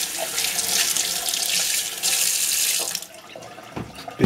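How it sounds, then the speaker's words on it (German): Tap water runs steadily into a kitchen sink onto a Tefal OptiGrill grill plate set in to soak, a close, loud hissing splash that briefly dips and returns near the end. "Ein bisschen Wasser drauf."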